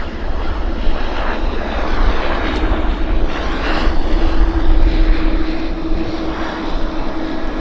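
Airplane taxiing fast at Vancouver airport, a loud steady engine roar sustained throughout with a faint tonal whine.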